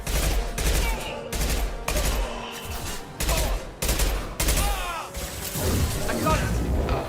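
An enemy turret in Mass Effect 2 fires rapid, loud bursts of gunfire in repeated volleys over a combat soundscape, with a player talking intermittently.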